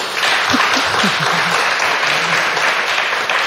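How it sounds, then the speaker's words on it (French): A theatre audience claps loudly and steadily throughout to cast a 'no' vote, with a few voices calling out low under the applause. "Ceux qui pensent que non, applaudissez."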